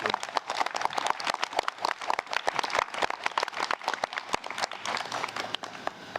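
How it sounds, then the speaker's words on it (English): Wedding guests applaud the couple at a solemnisation ceremony, dense clapping from a crowd nearby that runs loudly and steadily throughout, with no one speaking. "give another big round of applause to the beautiful couple assembled in front of us here"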